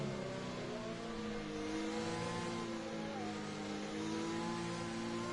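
A McLaren race car engine in a racing video game drones steadily, its revs rising and falling as it races, heard alone at a moderate distance.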